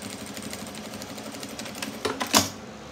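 Sewing machine stitching a crossbody bag, a rapid even mechanical chatter up close, ending in a louder clunk as the stitching stops.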